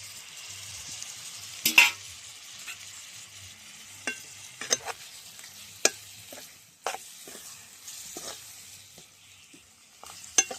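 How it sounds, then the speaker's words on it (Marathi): Clam meat from the shells sautéed in a pan for a Konkan-style home dish: a faint steady sizzle runs throughout, broken by scattered scraping stirs and a few louder clacks of the spoon against the pan, with no talking. "मस्त असं परतून घेऊया."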